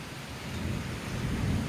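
A low rumble of thunder rolls and swells beneath the steady patter of falling rain on a hot night, with lightning.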